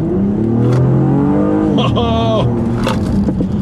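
A 2016 Honda Accord Coupe accelerating, its engine note rising in pitch steadily from near the start, loud and close inside the cabin, with a brief voice or sound partway through.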